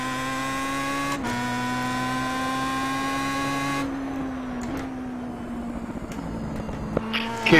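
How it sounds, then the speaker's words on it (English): A steady, buzzing engine drone holds a high whine, then shifts pitch and sputters as it revs, like a small racing motor up close: a Star Mazda race car in a racing video game at VIR. "This car, the Star Mazda, sounds like a souped-up lawnmower."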